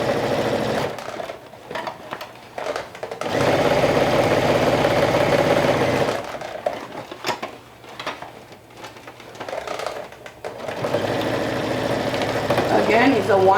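A sewing machine stitches the side seams of a bucket hat with a quarter-inch seam allowance, running in steady bursts of rapid mechanical whirring that start and stop, with someone talking over it.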